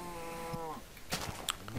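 A cow in the Minecraft video game lets out a short, moderately loud moo in the first second, followed by a few soft game clicks and thumps.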